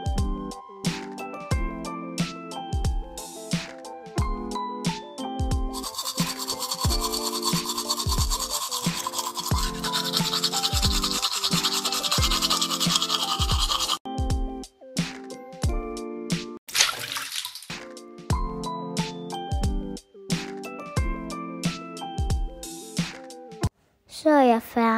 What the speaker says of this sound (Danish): Nu går jeg lige hen og børster mine tænder.